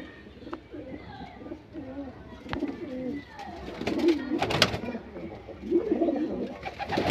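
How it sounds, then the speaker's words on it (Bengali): Domestic pigeons, short-bodied fancy birds kept at a home loft, coo steadily in overlapping low burbling calls, close and moderately loud, with a few sharp knocks and rustles and some faint background voices. "চলুন একটা পায়রা দেখাই, এটা একটা ফুলসিরা নর।"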